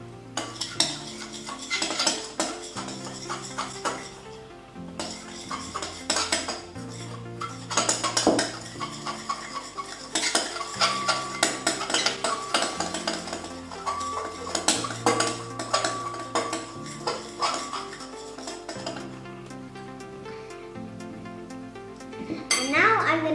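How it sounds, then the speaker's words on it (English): A utensil stirs homemade slime mixture in a bowl, making repeated clinking and scraping strokes, close and busy, with a tonal background underneath. "Now I need to stir it all up."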